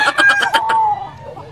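A young bullstag rooster crows loudly and close at a busy poultry sale, a single short strained call with a clucking onset that trails off.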